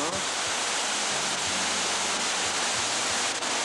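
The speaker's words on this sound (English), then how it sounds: "This is the waterfalls of the Kolli Hills." Waterfall in the Kolli Hills roaring as a steady, dense rush of falling water, loud and close, with no break across the whole stretch.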